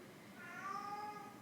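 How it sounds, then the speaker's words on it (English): A house cat meows during a quiet, calm yoga session; a single drawn-out, tonal cry rises and holds for about a second, moderately near and alone, with no talking over it. "One of my kitties is serenading us right now."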